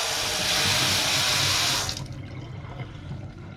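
A tap runs with a steady, strong rush of cold water, then cuts off abruptly partway through, leaving a faint low hum and drips.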